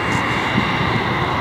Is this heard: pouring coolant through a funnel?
no